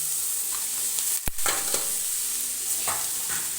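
Cauliflower fries with a steady sizzle in a pan as it is stirred, with a sharp scrape or clatter of the spoon early on and lighter stirring scrapes throughout, close and alone.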